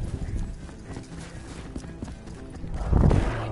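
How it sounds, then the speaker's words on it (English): A horse's hooves clip-clop in a galloping rhythm, moderately loud, swelling near the end with a heavier burst of hoof and body noise; no talking. "You sound like a goddamn horse galloping in"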